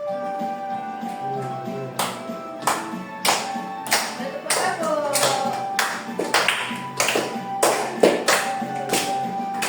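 Children at a special-needs school clap along in irregular bursts to a classroom song about Pancasila, sharp close claps and taps punctuating a sung melody, with some talk between.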